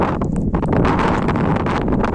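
Gusty wind buffets the microphone on a mountain hike up Punta di Su Guardiano under cloudy skies, a loud continuous rumble with fluttering bursts.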